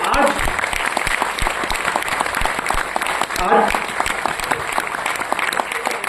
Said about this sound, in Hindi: सो प्लीज एक जोरदार तालियां आप अपने लिए करेंगे